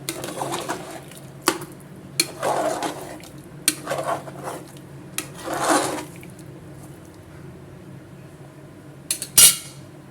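A spoon clinks and scrapes against a pot of masala chicken kulambu in scattered strokes, with pauses between bursts and a sharper clatter near the end.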